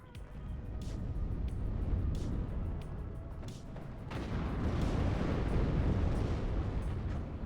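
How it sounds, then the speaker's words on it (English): Rapid 20mm autocannon fire from Marder 1 infantry fighting vehicles in the WARNO wargame rattles out as dense bursts over a heavy rumbling battle background, growing louder and fuller toward the end. "The amount of fire they can put down with that 20mm cannon."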